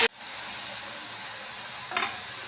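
Water spinach with potatoes, lightly sugared, sizzles in a pan while being stirred. A steady hiss runs throughout, with a sharp utensil scrape at the start and another near the end.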